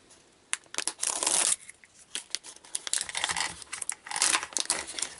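A heat-sealed bleeding control kit package with tear notches and a ziplock is torn open, giving loud, close crinkling and ripping of plastic in several bursts, with rustling handling between them.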